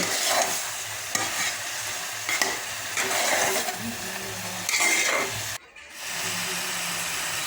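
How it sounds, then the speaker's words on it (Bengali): Sliced bottle gourd frying in a pan with salt is stirred, a steady sizzle broken by repeated scraping strokes of the spatula, close and clear, before a brief lull. "ভালো করে নেড়ে চেড়ে"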